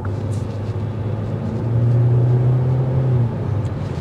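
Cabin noise inside a 2024 Hyundai Elantra SEL with an IVT transmission while driving: a steady low engine and road hum that swells into a firmer drone mid-way and then eases slightly. No voices are heard.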